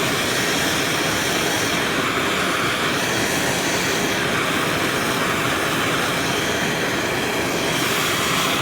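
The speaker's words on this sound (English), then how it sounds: "Sorry about the noise, the torches are warm. I mean, they're loud." Loud, unbroken roar of torches heating sterling silver for a pour into a mold, a steady rushing blast that fills the whole stretch without any talking.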